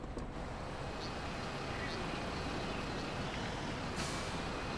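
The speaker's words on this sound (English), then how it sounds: "So this bus that I'm now using is actually one of the starting buses." Steady bus engine drone with a sharp hiss of air brakes near the end, from a bus in the Bus Simulator 21 video game, playing under a speaking voice.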